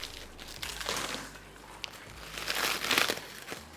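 Close, quiet crinkling and rustling of cellophane wrap being pulled off simulator accessory parts, continuous crackly swells of varying strength with no speech.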